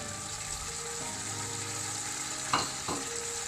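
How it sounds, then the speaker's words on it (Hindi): Chicken sizzles steadily in a hot pan for pulao as tomatoes go in, with a continuous frying hiss and a couple of brief louder stirring clatters near the end, with no talking. "चिकन हमारा फ्राई हो चुका है। अब इसमें डालते हैं हम टमाटर"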